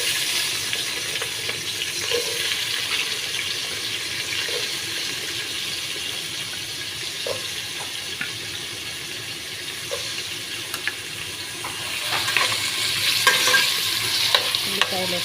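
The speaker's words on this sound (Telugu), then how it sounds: "ఉల్లిపాయలు అయితే బాగా ఎర్రగా వేయించుకోవాలి." Onions frying in olive oil in a pan, stirred steadily, giving a continuous close sizzle with scraping stirs and a louder burst of crackling near the end; no talking.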